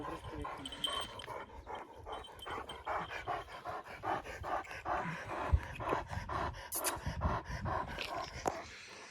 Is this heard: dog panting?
yes